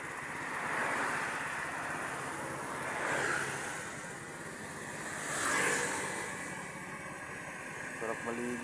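Sea waves wash onto the shore at Cavite City, swelling in a few slow surges over a steady hiss of surf and wind, with faint voices in the background.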